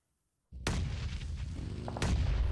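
Grenade blasts in a PUBG Mobile pro league match, a loud booming explosion after half a second of silence with a rumbling tail, then a second heavy blast near the end, with no talk.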